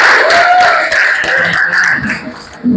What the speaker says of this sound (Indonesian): Tepuk tangan dong buat kelompok auditori.